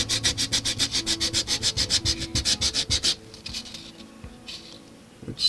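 Sanding boards rub back and forth along the edge of a resin coaster, a fast, regular rasping stroke repeated many times up close, then stopping into quieter scattered scraping and handling.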